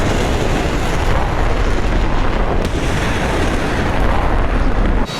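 A Soviet Kirov warship shelling in a Falklands war strategy game: a continuous loud roar of explosions and blasts, dense and unbroken, with no speech.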